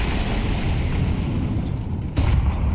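A heavy grenade explosion in Counter-Strike during an IEM Katowice 2025 esports match, a dense, loud, sustained low rumble with a sharper burst near the end, with no speech.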